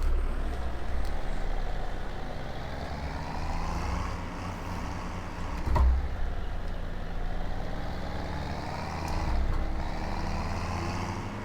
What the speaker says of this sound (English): This is a great wee tractor.